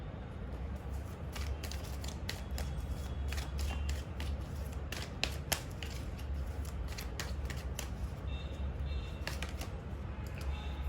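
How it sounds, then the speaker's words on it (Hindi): Tarot cards are shuffled close by in a run of crisp, rapid papery snaps and flicks over a low, steady room hum, with no talking. "पहले मैं शफल कर लूँ फिर मैं कार्ड्स दिखाऊंगी।"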